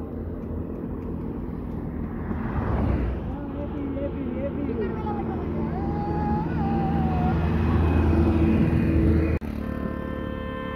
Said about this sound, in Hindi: यहाँ से ट्रैक्टर आ रही है